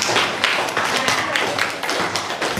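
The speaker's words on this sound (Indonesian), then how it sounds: "Tepuk tangan dulu buat kita semua." Applause in a primary classroom as a teacher asks the pupils to clap for everyone: a dense, steady patter of many small hands throughout, fairly loud and close, with faint voices mixed in.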